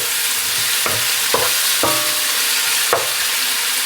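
Pork belly and chicken frying in a pan give a loud, steady sizzle, broken by a few sharp stirring scrapes spaced through it, close up with no talking.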